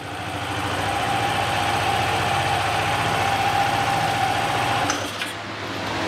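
A Yamaha Aerox/NVX CVT scooter engine idles steadily during a test run, a loud continuous mechanical drone with a rapid rhythmic throb that dips briefly near the end and then carries on, with no talking.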